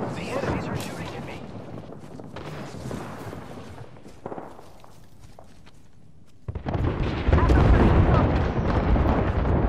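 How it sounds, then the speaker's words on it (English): Gunfire and a grenade blast in the battle royale game Apex Legends: loud, continuous bursts of shots and rumbling impacts, thinning around the middle, then surging into a dense, heavy barrage near the end. "Look out, grenade! The enemies are shooting at me."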